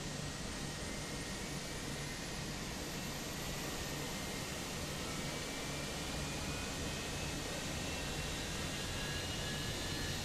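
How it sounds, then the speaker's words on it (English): Fenix A319 airliner in MSFS 2024 with engine number one spooling up, a steady, loud broadband jet roar and hum holding constant throughout, with faint rising whine tones and no talking. "Engine number 1 is starting up."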